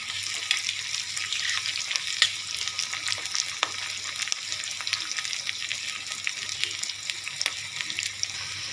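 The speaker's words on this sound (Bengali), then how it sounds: "আমি পেঁয়াজটা একটু ভাজা ভাজা করে নেব।" Onion frying with cinnamon sticks and green and black cardamom pods for chana bhuna, a dense continuous sizzle with scattered crackles and pops, close and without talk.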